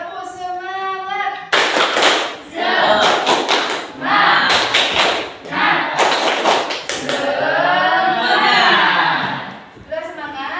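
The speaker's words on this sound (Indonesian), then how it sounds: "Coba tepuk semangat." A school class performs a rhythmic spirit clap, with bursts of sharp, loud group claps in a patterned beat alternating with the teacher and students chanting together.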